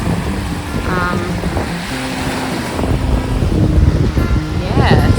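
Cold wind gusts outdoors on a Tasmanian road trip, a constant rushing buffet against the microphone that grows slightly stronger toward the end, under a man's speech.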